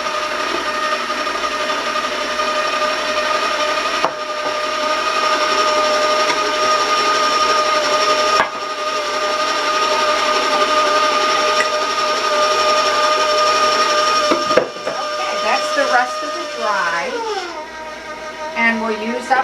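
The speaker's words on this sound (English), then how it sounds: "now I'm going to raise my mixer speed" Electric hand mixer beating sugar-free pizzelle cookie batter of eggs, butter, vanilla and maple syrup, a steady close whir that holds for long stretches, then speeds up with clattering toward the end.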